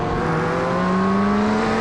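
A Corvette GT3 race car in the iRacing sim at Road America holds a loud, steady engine drone with rising pitch as another car runs alongside, close and unbroken.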